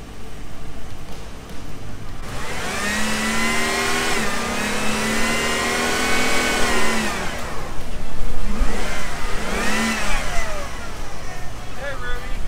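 A Jeep Liberty drives off-road in the backcountry, its engine droning loud and steady with rising revs and strain throughout, while people talk over it.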